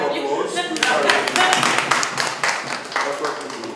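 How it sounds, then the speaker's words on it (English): An audience at a mentor meeting claps its hands, sharp dense claps at close range fading toward the end, with voices mixed in. "But give me a round of applause."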